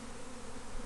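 A dense, steady buzz of many honeybees swarms close around an open beehive, continuous and fairly quiet throughout.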